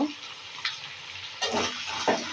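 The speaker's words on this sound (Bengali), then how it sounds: "একটুখানি গোলমরিচের গুঁড়া এখন দিয়ে প্রথমত নেড়ে নেব" Chicken with black pepper powder is stirred in a frying pan over a steady low sizzle, with a few louder scraping strokes of the spatula coming close together near the end.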